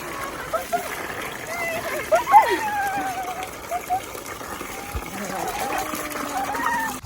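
Water splashes and sloshes as shoes are rinsed outdoors, in scattered, fairly soft splashes mixed with a running trickle, while a child and an adult talk over it.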